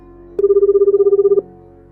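A mobile phone rings loudly at night, one sharp burst of rapid, trilling electronic pulses lasting about a second, close and clear over faint background hum.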